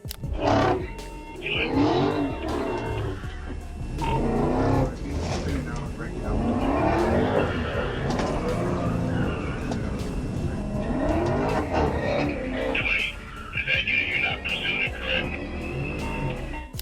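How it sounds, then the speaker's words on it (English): A Dodge Challenger spins donuts on the I-24 highway in front of a police cruiser, its engine roaring and tires squealing in repeated surges, with a voice talking over the noise throughout. "he hopped onto I-24 and started performing donuts right in front of the officer's cruiser"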